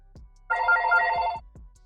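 A telephone rings near a PS4 gaming setup, a single electronic bell burst of about a second with clicks and small knocks before and after it, at a modest level with no talk.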